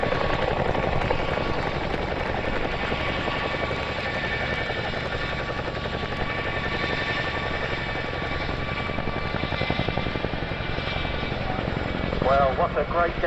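A Royal Air Force Chinook twin-rotor helicopter at the Cosford Airshow 2024 gives a steady, loud rotor and engine roar with a rhythmic blade thump, heard from the crowd line while an announcer speaks over it.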